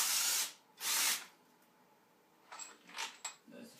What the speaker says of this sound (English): Use the power tool.